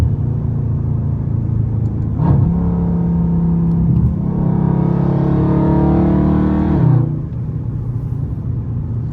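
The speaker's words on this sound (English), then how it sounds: "Do my car sound loud from the inside," A Scat Pack car engine heard from inside the cabin on a highway gives a loud, constant rumble, then revs up for several seconds before easing back to a steady drone, with no talking.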